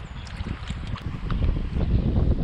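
Strong wind buffets the microphone with a heavy, rumbling roar beside a trout stream in the Driftless region, gusting louder toward the end, with faint water sounds underneath.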